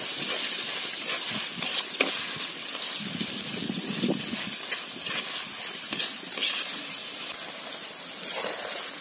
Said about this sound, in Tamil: இப்போ இதை நல்லா வதக்கி விட்டுருங்க.